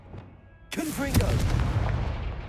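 A Confringo fire spell bursts in Hogwarts Legacy gameplay, a sudden loud blast with a rumbling tail that follows a quiet lead-in.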